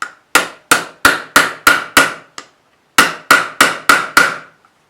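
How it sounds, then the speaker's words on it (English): A hammer whacks a rivet setter on a Kydex holster, two runs of loud, sharp metallic strikes, six and then five in a quick steady rhythm, each with a short ringing decay, close and alone. "Give the rivet setter a whack."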